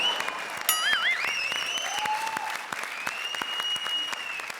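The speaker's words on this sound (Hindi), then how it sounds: "जरा जोरदार तालियां" Loud, sustained applause from a live comedy show audience, steady clapping with a few whistles and cheers throughout, no speech over it.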